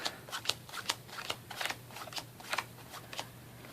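Playing cards are sorted into piles, each card slapping down in a quick, uneven rhythm of sharp snaps close by, with no voices.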